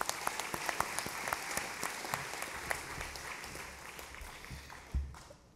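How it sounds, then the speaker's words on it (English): Quiet, steady applause from a dinner audience for a school choir at an academy scholarship event, continuous clapping heard from a distance with a few faint thumps. "So if we can give them a round of applause again, they were awesome tonight."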